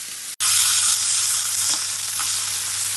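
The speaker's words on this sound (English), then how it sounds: "So turning these steaks over now. Again, there's a little bit too much excess oil in the pan" Thick beef steaks, a cote de boeuf and sirloins, frying in excess oil in a hot pan, a loud continuous hiss that jumps up sharply and holds steady, with no talk.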